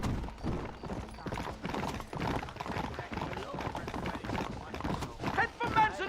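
Horses in the Red Dead Redemption video game clop along at a fast, rhythmic pace through a town, hoofbeats running continuously amid game sounds and dialogue.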